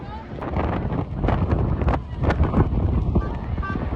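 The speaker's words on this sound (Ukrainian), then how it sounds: "Блін, всіх просто вітром зносив" Strong gusting wind buffeting the microphone on a bridge in central London during a rally, a loud rumbling roar that rises and falls, with faint voices and footsteps underneath.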